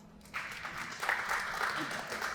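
Conference audience applause, a short, moderately loud spell of steady clapping from a crowd that starts after a brief pause and carries on to the end.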